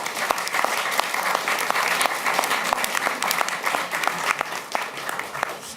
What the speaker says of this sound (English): Give him a warm hand of applause.